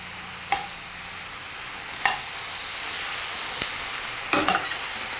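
Onions frying in a pan for curry give a constant hissing sizzle, broken by a few sharp clicks of a spoon against the pan at irregular intervals, with no voice over it.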